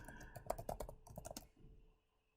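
Rapid typing of code on a computer keyboard, a dense burst of close, crisp key clicks for about a second and a half before stopping into near silence.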